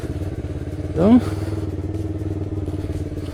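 A Yamaha R3 motorcycle's engine holds a steady, close, low drone throughout, with a brief rising voice cutting in near the start.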